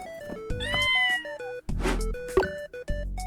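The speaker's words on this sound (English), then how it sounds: "We got a cat!" A cat meows over a busy game soundtrack of tonal music and effects, its voice loud and close in a couple of rising calls amid the musical cues.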